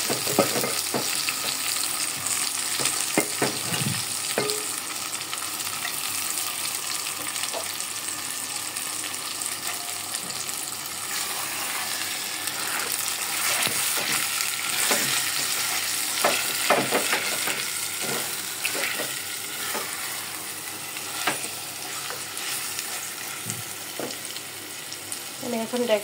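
Beef being stirred and fried in a clay pot with fried onion, cardamom and cinnamon, a steady sizzle under repeated scraping and clinking stir strokes, close and continuous throughout.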